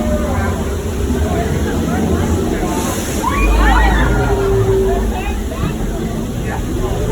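Water sloshes and splashes around the boat on the Jurassic World ride at Universal Studios Hollywood at night, a continuous wet rush with a louder surge midway, and a crowd murmuring faintly.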